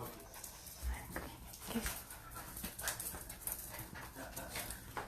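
Several puppies whimper, pant and let out small yips up close while a person speaks to them now and then.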